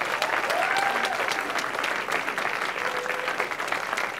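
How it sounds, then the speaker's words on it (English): An audience at a speaker series event in Vancouver claps continuously and densely, a full sustained round of applause with a faint murmur of voices beneath. "Can we get another round of applause"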